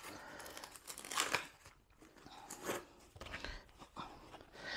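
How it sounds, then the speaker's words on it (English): Packaging is peeled and pulled off a Windgoo B3 electric scooter during unboxing, giving close crinkling, rustling and tearing bursts in irregular clumps with brief pauses between them. "So we'll begin by removing everything we can see packaging wise."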